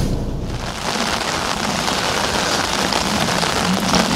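Steady, heavy rain patters densely on a surface close by in a bonsai garden, a continuous hiss of drops with no voices, unchanging throughout.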